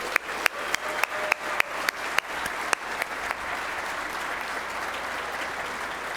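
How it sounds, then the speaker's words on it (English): A breakfast audience breaks into applause: a few loud, spaced individual claps up front swell into a dense, even round of clapping that holds steady to the end. "and a big round of applause."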